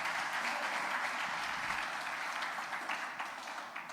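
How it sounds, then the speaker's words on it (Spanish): A church congregation applauds, a steady wash of many hands clapping at moderate distance that slowly thins toward the end, with no talk over it. "Denle un fuerte aplauso al Señor en esta mañana."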